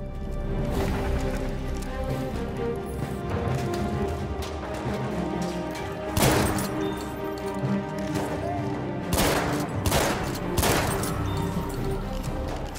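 Shotgun blasts in Battlefield 1, a handful of sharp, loud booms spaced irregularly over a busy backdrop of game noise and scattered clatter.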